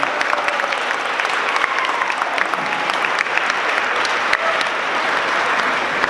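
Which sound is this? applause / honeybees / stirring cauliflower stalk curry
applause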